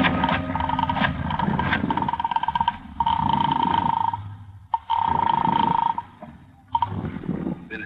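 A telephone ringing in an old-time radio detective drama, repeated loud bursts of ringing with short gaps between them, near and prominent.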